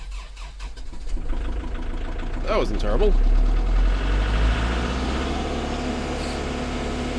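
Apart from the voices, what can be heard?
tractor engine starting in cold weather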